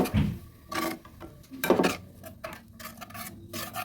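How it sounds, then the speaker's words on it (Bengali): A spoon stirs sago (sabudana) payesh in a pot with a few short scraping strokes and clinks against the metal, fairly close and quiet, with pauses between strokes. "এবার ভালোভাবে মিশিয়ে নেব"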